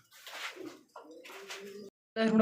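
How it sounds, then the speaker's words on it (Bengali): Raj Golla pigeons cooing up close, several soft throaty coos in short phrases with brief pauses between them. "সর্বপ্রথমে শুরু করলাম একজোড়া গোল্লা কবুতর দিয়ে।"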